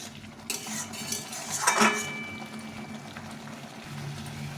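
Tomato pickle stirred in a pan, a metal spoon scraping and clinking against the pan in a brief burst of strokes over a low bubbling background, close by, with no speech.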